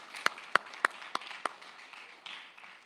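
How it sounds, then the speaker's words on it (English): Scattered applause for students at a junior high and high school academic and sports awards ceremony, a handful of separate sharp claps that thin out quickly. "give them a good round of applause"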